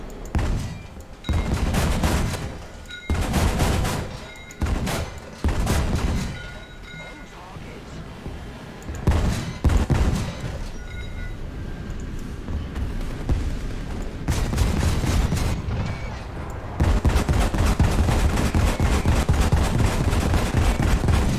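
A flak gun in War Thunder fires loud, rapid bursts in repeated volleys with short gaps, then settles into a sustained, continuous stream of fire near the end.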